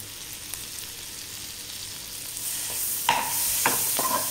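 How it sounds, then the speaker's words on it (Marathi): Green capsicum dropped into hot butter in a kadhai gives a soft, steady sizzle, then a few sharp stirring clatters and scrapes near the end. "या बटर मध्ये सुरुवातीला आपण शिमला मिरची टाकतोय।"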